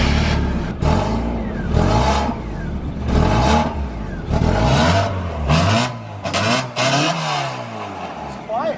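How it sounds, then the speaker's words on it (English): A Mazda Miata fitted with a quiet, neighbor-friendly muffler exhaust revs repeatedly, with several rising and falling engine blips close by and a voice heard over it. "Let me put all my shit up and then I'll give y'all a rev. Here is the neighbor-friendly exhaust on it now."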